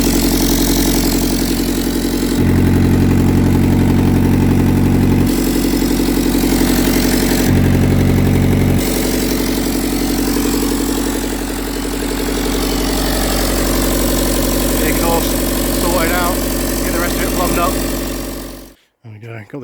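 A Nova turbo diesel car idles with a newly fitted bigger turbo and rejoined exhaust, giving a loud, steady, rumbling drone close by. A few faint clinks sit underneath, and the sound cuts off abruptly at the end.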